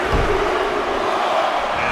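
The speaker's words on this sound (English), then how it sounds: "Listen to this crowd count the next one in." An arena crowd in a WWE 2K wrestling video game gives a steady, dense roar of many voices chanting together, loud and continuous throughout.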